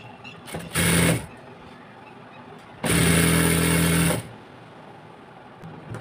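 A sewing machine stitching the side seams of a plazo, two separate bursts of rapid mechanical whirring, a short one then a longer run, close and with no talking.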